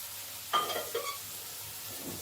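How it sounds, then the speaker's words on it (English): Fresh garlic and ginger hit hot fat in a pot for a sugar bean bredie, giving a short quiet sizzle with a stir or two, faint and close. "Now I'm going to add in my garlic, fresh garlic and ginger."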